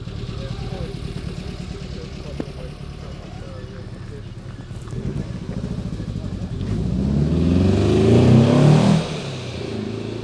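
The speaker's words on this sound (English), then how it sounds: "2CVs don't usually make that noise." A Citroen 2CV fitted with a 1299cc GSA engine and Megasquirt fuel injection revs hard at a car meet, its engine note steady at first, then climbing to a loud peak before dropping back, with talk from people nearby over the top.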